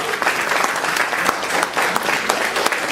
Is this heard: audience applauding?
yes